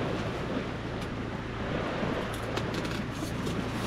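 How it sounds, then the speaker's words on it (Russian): Steady wind blowing at midnight on a night fishing trip, a continuous broadband rush with low rumble and buffeting, constant and fairly loud throughout with no talk. "Ветер не стихает"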